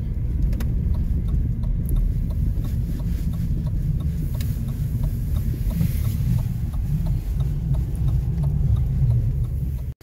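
A car drives along a snowy street in a Russian town, its engine and tyre rumble a steady, continuous low drone from start to finish, with faint clicks and knocks over the top and no talk.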